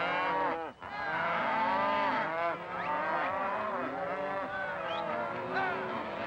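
A rounded-up herd of cattle on a ranch moos and bellows loudly and continuously, many overlapping calls filling the whole stretch with no pause.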